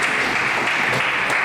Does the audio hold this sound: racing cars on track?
no